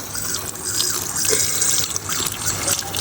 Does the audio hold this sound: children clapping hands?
no